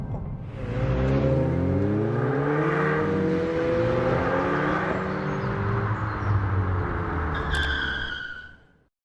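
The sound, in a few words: 2022 Hyundai i20N hot hatch accelerating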